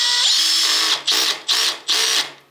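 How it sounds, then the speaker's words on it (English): A power drill drives a nut while a battery is fitted on a Suzuki DR650 motorcycle. It whirs in one longer run and then three short bursts, each winding down. "Now let's use our drill. Let's see if we can't get that to find that nut in there."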